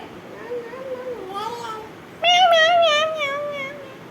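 A voice imitates a cat, giving a soft drawn-out meow and then a louder, higher meow right after.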